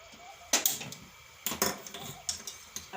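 An iron griddle (tava) is set onto a gas stove with a few sharp metallic clanks and rattles in quick succession, close and fairly loud, with no talk.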